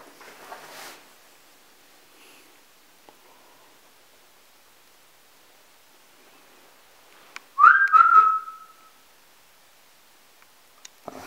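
A person gives one short whistle inside an abandoned villa, a single clear tone lasting about a second that stands alone in an otherwise near-silent room, with faint rustling before it.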